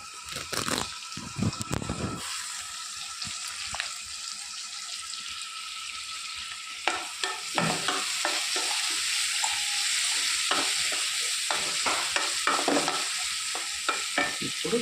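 Onions and curry leaves fry in a pan, a steady close sizzle broken by repeated scraping stirs and clattering spoon strokes over about fifteen seconds, with no talking.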